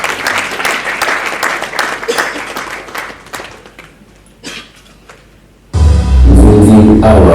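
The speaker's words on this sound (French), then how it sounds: "Est-ce qu'on peut encore applaudir pour l'honorable?" Audience applause at an award ceremony honouring comedians, a dense spread of clapping that thins out, then a sudden loud surge of crowd noise and cheering near the end, with some voices mixed in.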